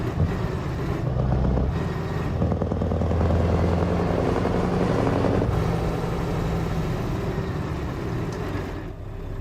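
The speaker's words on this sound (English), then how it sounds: "So yeah, this is the Fred Scania." Scania truck engine in Euro Truck Simulator 2, a steady low diesel drone with a rumbling hum that holds at constant loudness throughout, with no talk over it.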